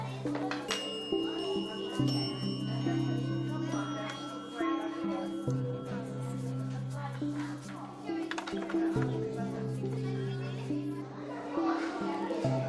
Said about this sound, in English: there are in fact little bells, all identical in size and appearance, but differ only in their tone